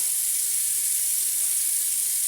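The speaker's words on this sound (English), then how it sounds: "let me go ahead and turn on the cold water as well" Cold water runs from a kitchen tap into a sink, a steady, even hiss of flowing water with no pauses, close and moderately loud.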